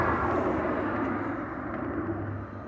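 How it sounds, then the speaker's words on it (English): A low, steady rumble of an aeroplane passing overhead during snowfall, fading slightly toward the end, with no voices. "this is the sound of the aeroplane."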